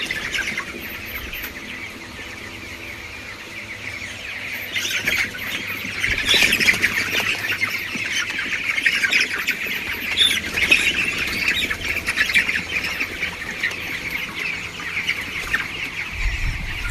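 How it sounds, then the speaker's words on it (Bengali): A flock of freshly vaccinated chickens squawks and clucks as the birds are lifted one after another, a dense, continuous close-up chatter that swells louder partway through, with no talking. "আমরা কিন্তু সবগুলো মুরগিকে উঠিয়ে দিচ্ছি।"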